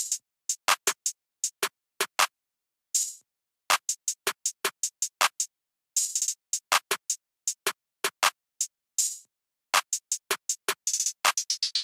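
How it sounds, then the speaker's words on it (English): Open hi-hat hits in a dark trap beat, a simple basic pattern landing on set counts, crisp bright sizzles repeating in short bursts with brief gaps, loud and alone. "I just had this simple and basic openhat pattern on the 1,"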